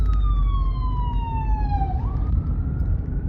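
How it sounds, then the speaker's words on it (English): A single emergency siren heard from inside a car at night wails across a long falling sweep, dips, then climbs again, over a steady low road rumble. "ambulance cars out tonight"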